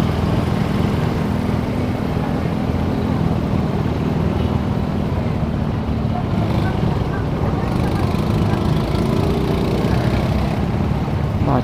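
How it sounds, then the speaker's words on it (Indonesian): Motorcycle and car engines drone in a dense traffic jam during a night ride on the eve of Eid al-Adha 2023 in West Aceh, a steady loud rumble throughout with voices mixed in. "Oh, ini udah pasti macet kali cuy."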